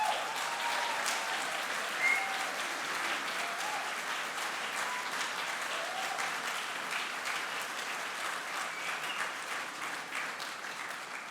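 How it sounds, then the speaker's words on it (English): An audience at the Australian Greens 2016 campaign launch applauds steadily for about eleven seconds, a dense, even wash of clapping that fades slightly toward the end. "And let's give them a round of applause."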